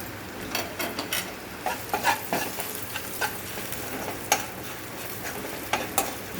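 Spices frying in a pan for mango pulihora, a quiet, steady sizzle broken by regular light taps and scrapes of a stirring spoon, nearby and without talk.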